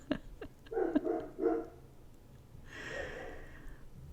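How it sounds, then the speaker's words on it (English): Two dogs bark in a few quick, moderately distant woofs, followed by a higher drawn-out whine or yelp, fairly faint overall with no talking. "And there's the dog barking."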